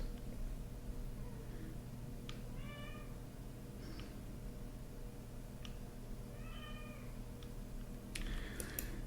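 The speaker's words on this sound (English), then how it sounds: "So Mummy Cat's trying to get in to the office" Mummy Cat, a mother cat, meows at an office door trying to get in: two clear, drawn-out meows a few seconds apart over a steady low room hum, with a faint tick near the end.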